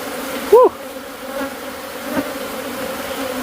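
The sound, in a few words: killer bees buzzing around a huge hive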